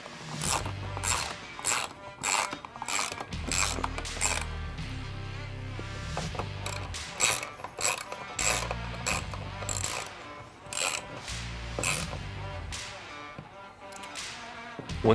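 A T30 driver on a ratchet tightens Trektop roof bolts on a 4-door Bronco, with rapid, close, clicking pawl bursts repeating in quick runs, broken by short pauses and low thumps of the tool shifting.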